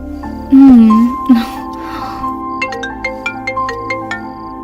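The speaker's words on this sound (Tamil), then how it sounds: "ஆதி இப்போ என்ன பண்ணிக்கிட்டு இருப்பான் ஃபோன் பண்ணி பார்க்கலாம" Outgoing phone call: a ringback tone pulses in a regular repeating pattern after a brief louder tonal sound and some speech at the start, fairly close and clear.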